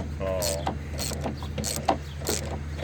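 A hand ratchet works on strut bolts of a 2009 GMC Acadia, repeated short clicking strokes in quick rhythm, close by, with a voice murmuring briefly between them.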